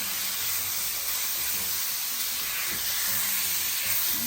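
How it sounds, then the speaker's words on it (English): Ground beef browns in a pan over medium-high heat, making a steady, dense sizzle and hiss that stays close and even throughout, with faint stirring underneath and no talking. "You see how fast that ground beef browns up."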